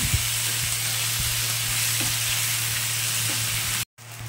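Dates and cashews being stirred into mango chutney in a pan, producing a steady sizzle with a low hum underneath and faint scraping of the spoon, cutting briefly to silence near the end.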